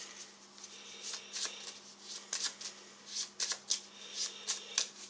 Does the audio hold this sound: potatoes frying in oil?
no